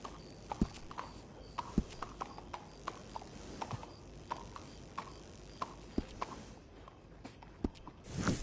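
Hooves of a horse in Red Dead Redemption 2 clip-clopping at a steady walking pace, soft and fairly close, with faint ambient background and no talking.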